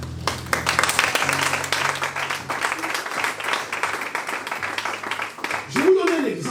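A church congregation clapping in applause to acclaim the Lord, a steady dense patter of many hands under loud talking and music throughout.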